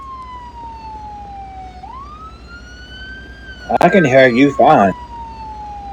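An emergency vehicle's siren keeps wailing in a slow falling-then-rising sweep as a person briefly speaks over it near the end.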